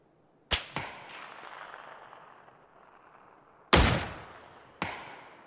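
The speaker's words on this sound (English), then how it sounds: "Headshot with the Dragunov" Sharp, loud Dragunov sniper rifle shots in PUBG, three cracking reports with ringing tails, one early, then two close together near the end.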